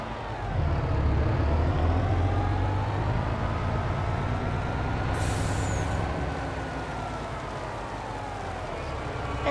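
Truck driving in the Farming Simulator video game, a steady engine drone with brake-like hissing bursts; a voice talks over it throughout.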